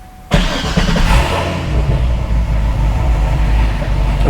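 A Corvette fitted with American Racing 2-inch long-tube headers and a Borla Atak 3-inch cat-back exhaust cranks and fires up abruptly, then settles into a loud, rumbling idle close by.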